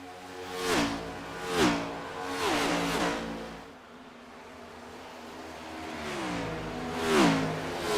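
Next Gen stock race cars at Las Vegas in a racing simulation roar past in repeated surges, each engine rising and falling in pitch as it passes, loud and alone with no talk.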